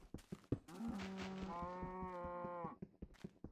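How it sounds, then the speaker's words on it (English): Cows in the Minecraft Alpha video game give one long drawn-out moo in the middle, loud and close, with a few soft clicks and game sounds before and after. "I might have to destroy these cows, because they're very loud."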